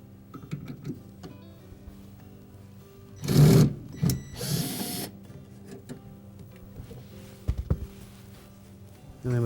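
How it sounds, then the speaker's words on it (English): Hex head screws being unscrewed from a Whirlpool refrigerator condenser fan motor mounting bracket, with a few short buzzy bursts of a powered driver separated by quieter handling clicks, close and fairly loud. "Next, we're going to remove the 2 1/4-inch hex head screws that secure the motor to the mounting bracket."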